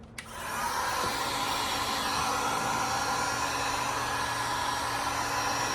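A heat gun blows a steady, loud, even whoosh onto the paint of a Nissan Skyline R34. It starts with a click and runs without a break to the end, with no talking.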